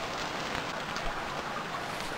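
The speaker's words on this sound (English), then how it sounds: "If it could stop raining, I would be so happy." Steady rain patters down in the Stranded Deep survival game, a dense, even hiss of falling drops that holds constant without a break and without voices.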